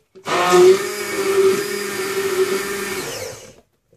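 An electric mixer whirs steadily at its lowest speed, whisking a batch of homemade foaming pump soap; the motor hum starts abruptly, holds loud and even for about three seconds, then cuts off.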